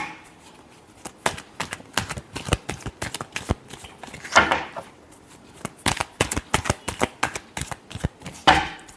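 Tarot cards being shuffled by hand in repeated quick bursts of riffling and snapping, close and fairly loud, with short pauses between the flurries and no voice.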